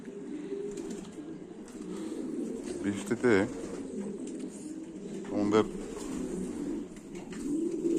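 Pet pigeons in the rainy season coo in two short, throaty bursts close by, while a person talks quietly over a faint steady background hum.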